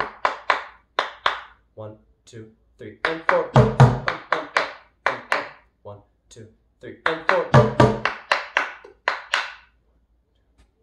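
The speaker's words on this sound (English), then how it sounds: "Rhythm number four is the one that we worked really hard on, where we're clicking the sticks together." Sticks click and strike buckets in a steady counted rhythm, sharp taps grouped in bursts with heavier hits twice, under a voice counting along throughout.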